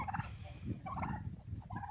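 A flock of turkeys gobble repeatedly at close range, several warbling bursts overlapping in quick succession in a farmyard.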